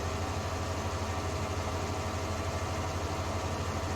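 Steady low idle of a Case row crop wheeled tractor engine before silage grass cutting, a constant even drone with a faint pulsing throb, heard alone at moderate distance.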